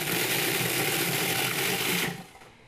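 A food processor whirs steadily as it mixes dry oats with cinnamon powder, a loud continuous motor drone that cuts off near the end and leaves a brief fading tail.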